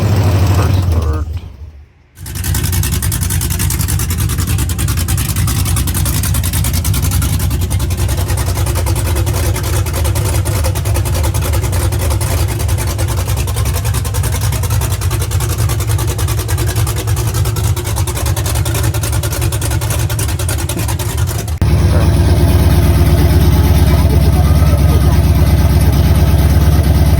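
A square body Megacab short bed dually truck engine cranks and fires after a short silence, then settles into a loud, steady low rumble that jumps to a heavier, fuller roar near the end.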